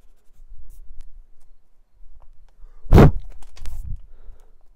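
A pencil eraser rubs out smudge marks on a drawing on paper, with soft scratching and a couple of sharper scrubbing bursts close up.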